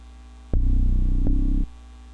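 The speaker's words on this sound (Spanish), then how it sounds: "Sonido de bajo." A single sustained synthetic bass note programmed in FL Studio plays for about a second, retriggering once midway, over a faint steady electrical hum.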